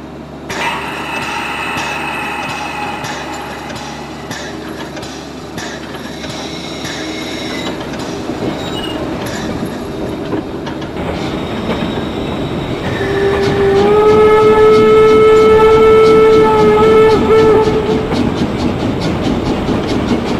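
A train pulls away on the narrow-gauge line between Talmühle and Drei Annen Hohne near Nordhausen, a loud, close rumble of rolling wheels and machinery that swells midway as a long, sustained squeal or whistle tone rings out.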